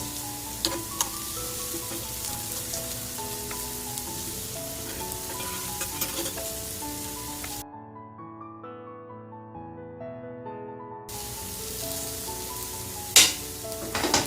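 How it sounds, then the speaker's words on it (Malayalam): Masala dosa sizzling in ghee on a hot pan, a steady close frying hiss running throughout, with a soft musical tone heard during a brief quieter stretch midway. "ഞാൻ കുറച്ച് നെയ്യ് ഇവിടെ ചേർത്ത് കൊടുക്കുന്നുണ്ട്."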